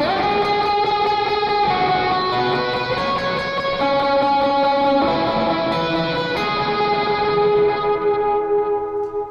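An electric guitar with boost and reverb plays sustained chords and notes, overdriven with a wash of reverb, thick and slightly messy, ringing out at the end.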